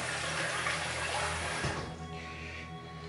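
A tap runs steadily to rinse off after a wet shave, a full close splash of water that softens slightly toward the end.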